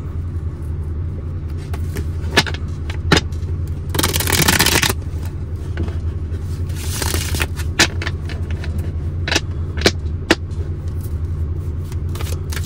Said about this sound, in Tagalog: nare-reshuffle po maigi ang ating mga baraha